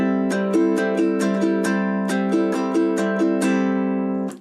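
A ukulele is strummed with the index fingernail on downstrokes and the finger pad on upstrokes: about a dozen bright, ringing chord strums in a steady rhythm, close and clear with no voice.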